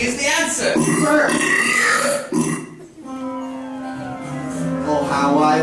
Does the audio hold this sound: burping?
yes